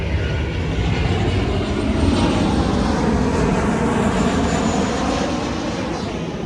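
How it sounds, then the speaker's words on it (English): An aeroplane drones overhead at a Donington race meeting, a loud, broad engine roar that holds steady and swells slightly throughout, with no voices over it. "Aeroplane."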